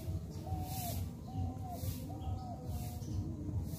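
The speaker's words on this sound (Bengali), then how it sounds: "পাখির কলতান আপনারা শুনতে পাচ্ছেন।" Birds call around an old age home set among green, natural surroundings in Konnagar, with a dove-like coo repeating about once a second over a steady bed of outdoor ambience; no one speaks.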